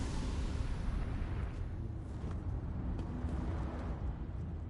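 Deep rumbling blast and crumbling roar as the Harvest Heart is destroyed in Elder Scrolls Online, a sustained heavy eruption that tapers with scattered crackles.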